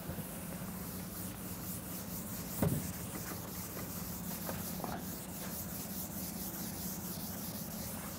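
Eraser rubbing out writing on a lecture board, a soft steady scrubbing hiss under room hum with a brief knock partway through.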